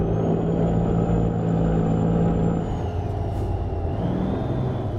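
A Kenworth W900 truck pulling an oversize load climbs a hill in American Truck Simulator, its engine droning loud and steady with a sustained whining tone that slowly shifts pitch.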